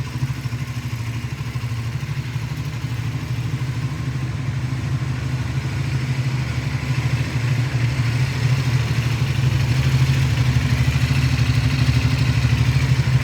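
A Triumph Scrambler 400X single-cylinder motorcycle engine runs steadily at idle, a continuous low throbbing hum with slight clatter, close and even, swelling a little toward the end, with no voices.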